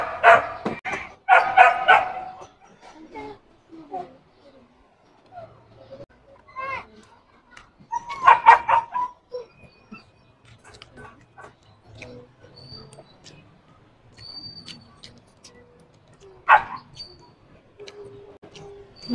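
A dog barks in short bursts during outdoor grilling, a few loud yaps near the start and middle, with people talking and quieter noises in between.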